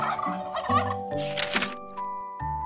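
Turkey gobbling sound effect: a series of rapid, bubbling gobbles in several bursts with short pauses, close and clear, with no talk over it.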